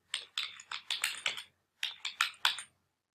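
Keys clatter on a computer keyboard as a domain name is typed, two quick bursts of close, crisp keystrokes separated by a short pause, with no voices.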